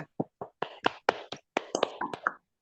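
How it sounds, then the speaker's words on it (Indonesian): A small group claps in a loose, uneven rhythm, a dozen or so sharp, close hand claps spaced irregularly over a couple of seconds, fairly quiet, with no talking. "Oke, tepuk tangan dulu semuanya."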